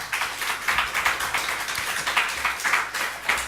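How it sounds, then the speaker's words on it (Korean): A church congregation on mission Sunday claps to welcome a speaker. The applause is close and rhythmic, with repeated claps forming an even, pulsing beat. "박수로 환영하겠습니다"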